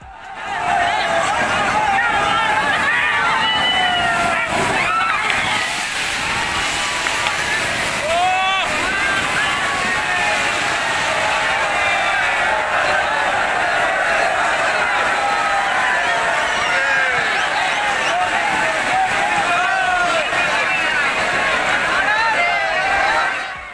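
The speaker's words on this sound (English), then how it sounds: "the water in the river rose to a height of several feet and moved forward at great speed" Floodwater on the swollen Ganges rushes forward at great speed, a loud, continuous roar and slosh of churning water with a murmuring crowd of voices underneath throughout.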